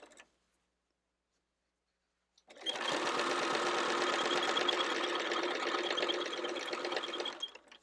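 After about two and a half seconds of silence, a sewing machine starts stitching quilt binding along the last side and runs for roughly five seconds with a steady, close, rattling hum, then stops; no talking.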